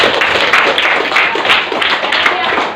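Players in a classroom clap game strike their hands together in quick rhythmic rounds, bright repeated claps running steadily under lively talk.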